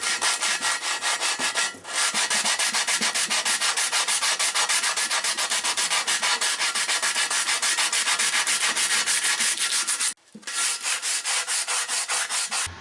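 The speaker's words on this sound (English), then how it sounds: "I'm going to use this 80 grit sandpaper now and see if I can" Steady, continuous sanding of curb rash on a wheel rim with 80 grit sandpaper, a loud, close, broadband scratchy rasp, with two brief pauses.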